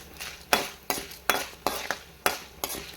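Lentils and dried red chilies dry-roast in a pan, stirred in a steady rhythm of about six scraping, rattling strokes roughly every half second, close and clear.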